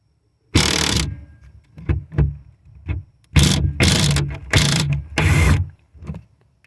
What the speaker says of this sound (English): 10 millimeter, and a regular ratchet for that to get that out.